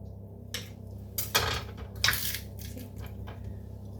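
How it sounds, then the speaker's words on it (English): A knife slices through a block of tofu on a board, making a few sharp, separate cuts spaced out over a low steady hum. "we're going to cut our tofu into slices"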